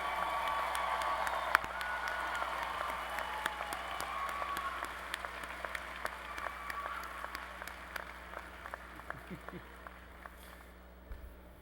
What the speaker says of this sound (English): Let's applaud the EIT graduates.